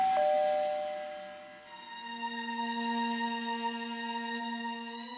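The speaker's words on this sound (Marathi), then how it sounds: "बेल वाजवा ना" A doorbell rings at the door of a home, giving a sustained electronic chime: a bright opening tone that shifts into a richer, steady ringing that holds for several seconds, with no one talking over it.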